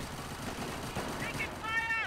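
Rapid machine gun fire in the World War I game Company of Heroes: The Great War 1918, a rattling burst under a voice shouting over the battle noise, ending in a bright whining ring.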